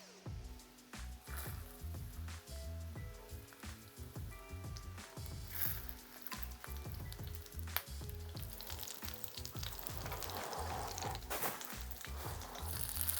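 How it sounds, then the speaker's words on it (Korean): Batter-coated oysters dipped in egg wash sizzle steadily in a hot pan with red and green chillies on top. The frying is fairly faint and continuous under background music. "자, 지금부터 부쳐보겠습니다"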